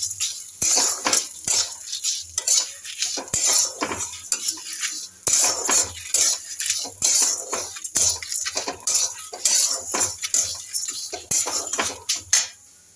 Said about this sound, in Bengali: এবার ভালো করে এগুলো মিক্স করে নেব।